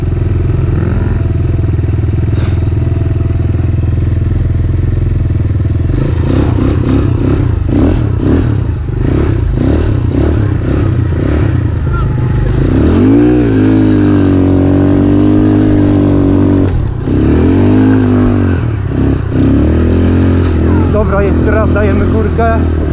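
Kayo 180 motorcycle climbing a hill at full throttle, its engine droning loudly and steadily, with the pitch rising and dipping as the revs change. Someone talks over the engine.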